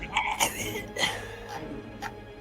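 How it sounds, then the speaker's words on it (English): Several short coughs and throat-clearing bursts sound in the background during a tabletop Dungeons & Dragons session, spaced irregularly over a couple of seconds with faint room noise. "Meanwhile, you're hearing cough in the background."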